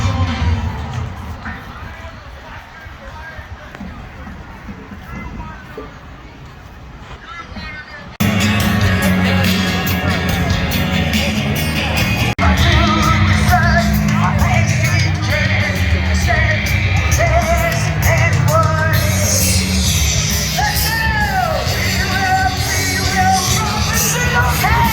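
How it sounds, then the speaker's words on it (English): Large outdoor crowd at a freedom rally, a loud continuous roar of cheering, yelling and whoops that swells sharply partway through and stays dense, with voices shouting over one another. "we're walking up there to the crowd, and it's a fairly big crowd"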